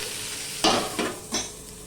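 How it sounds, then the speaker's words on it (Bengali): Papaya, potato and onion frying in a pan get stirred three times, each stroke a short scraping rasp over a soft, steady sizzle. "এবার নেড়ে চেড়ে ঢাকা দিয়ে দিচ্ছি"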